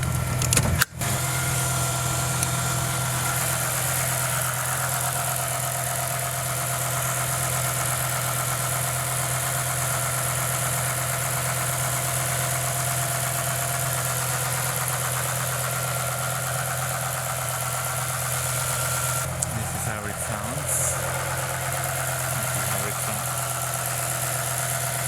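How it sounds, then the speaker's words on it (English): A BMW M5 E60 with its V10 engine idling while malfunctioning, recorded close up with the hood open: a steady, continuous low rumble with a rough, uneven texture, holding for the whole stretch with no voices. "I want to record how the engine sounds right now."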